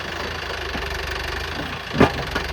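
A tractor engine runs steadily in a farm field where stones are being cleared and a rotavator is used, a continuous close mechanical drone with a knocking pulse and a brief louder clunk near the end.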